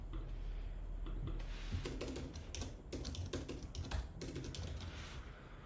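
Quick bursts of clicky keystrokes on a computer keyboard as a short phrase is typed, close and clear with brief pauses between words.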